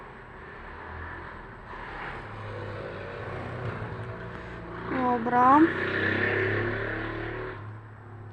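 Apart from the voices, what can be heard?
motorcycles and traffic outside open window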